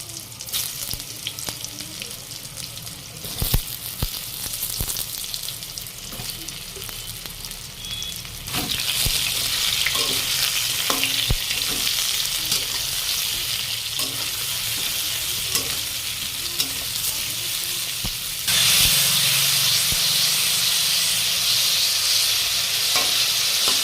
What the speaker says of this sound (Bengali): কড়াইতে সরষের তেল দিয়ে দিয়েছি পরিমাণ মতো। এবার ঝিঙাগুলো ভেজে নেব।